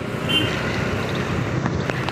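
A scooter ridden on a road, heard as steady engine and wind rumble from the rider's position, continuous and fairly loud, with faint traffic sounds and no clear talk.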